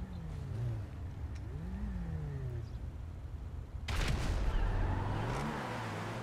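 An Aston Martin Disco Volante in GTA 5 revving and accelerating hard off the line, engine pitch climbing and shifting, then a louder, rougher surge as it pulls away.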